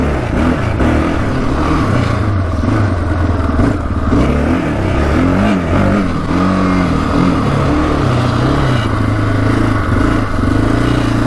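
A Yamaha Raptor 660R ATV engine runs steadily and loudly up close after a valve adjustment, with uneven revving and engine clatter throughout.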